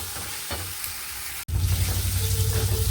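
Spice masala fries in hot oil in a pan, a steady close sizzle broken by a sharp stirring scrape partway through, after which the frying grows louder and denser.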